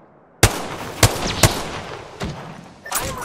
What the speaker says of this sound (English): Shots fired on me.